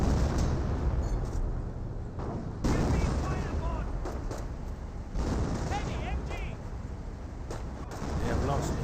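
Artillery in the Company of Heroes battle game: heavy booming impacts land every few seconds amid scattered gunfire, heard beneath a commentator talking.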